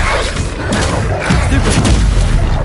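Spell blasts in Hogwarts Legacy combat, a dense run of booming, crackling impacts and rumbling bursts that keep going at steady loudness for the whole stretch, with no clear gaps between them.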